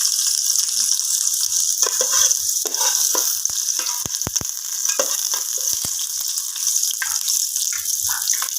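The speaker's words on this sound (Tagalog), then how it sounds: "Gisa muna natin siya" Onions sautéing in hot oil in a pan for chicken tinola, a steady loud sizzle broken by stirring scrapes and a few sharp utensil clicks against the pan, with no talking.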